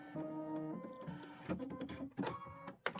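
Home embroidery machine stitching a tiled Halloween manor scene on an Aveneer machine, a rapid mechanical chattering with tonal motor whines and irregular clacks, close and quiet.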